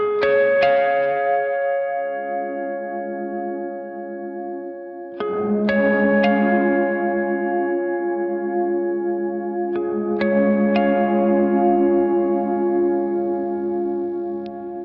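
Walrus Audio SLÖ reverb pedal on a guitar with its -1 octave blended in, three sustained strummed chords ringing out with lush, swelling reverb tails, steady and loud with no talk.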